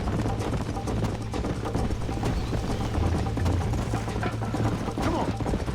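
Horse galloping in Red Dead Redemption, a steady rapid clatter of hooves under a dense, continuous game soundscape with a low droning hum, sustained and fairly loud throughout.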